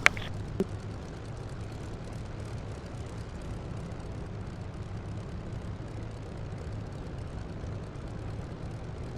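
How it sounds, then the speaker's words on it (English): Aircraft engine running in a flight simulator, a low steady propeller drone with a constant hum throughout, preceded by a couple of sharp clicks at the start. "Yeah, my engine's running."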